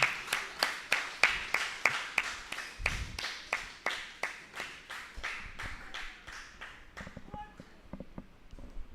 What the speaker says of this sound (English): Please continue a round of applause until they come.